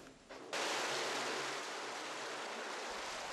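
Water from the Gihon Spring rushes through an ancient tunnel waterway in Jerusalem, a steady, close, hissing gush that surges in after a quieter start and stays constant, with no voices.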